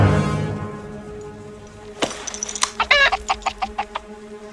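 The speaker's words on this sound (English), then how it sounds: "Chicken?" A chicken clucks in a rapid run of short, sharp, nasal calls close by, starting after a moment of near quiet and a single abrupt knock.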